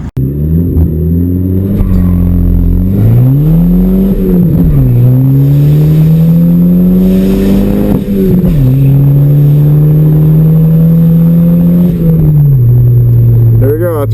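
A turbocharged wagon accelerating hard from a standstill, the engine droning loudly and rising in pitch through several gear changes, each shift marked by a brief dip before the revs climb again, close and continuous.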